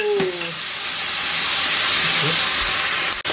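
Pork pieces and their juices sizzle loudly in a hot pan as a batch is returned to it, a dense steady hiss close up with brief clatter at the start.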